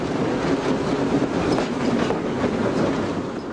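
An electric S-Bahn commuter train of the Reichsbahn-era Berlin network, bound for Strausberg Nord, rolls past nearby with a steady loud rumble and rhythmic clickety-clack of wheels over rail joints, with no voices.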